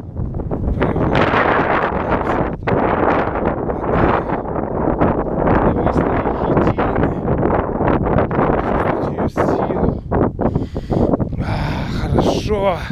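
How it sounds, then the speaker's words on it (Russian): Strong wind blows outdoors in Mayakovsky Park and buffets the microphone with a loud, rough, gusting roar that rises and falls but hardly lets up. "Вот это вот стихия ветра."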